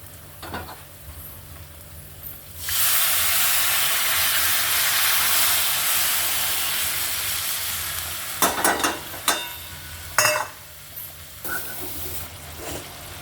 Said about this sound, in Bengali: একটু জল দিয়ে দিলাম, গরম জল।